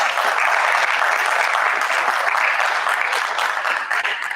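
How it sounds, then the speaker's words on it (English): Sustained applause from an audience at a junior honor society induction ceremony, steady, dense clapping throughout that tapers slightly near the end. "Please give them all a round of applause."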